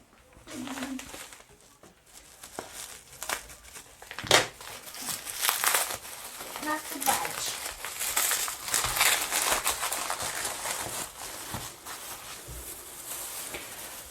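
Plastic packaging crinkles and crumples in irregular bursts close by, with some tearing and rustling, and a voice speaking briefly.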